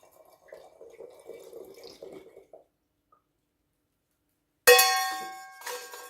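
Water from a kitchen tap suddenly gushes into a pot for making chaga mushroom tea, a loud close splashing rush starting after a quiet stretch of faint clinks and handling.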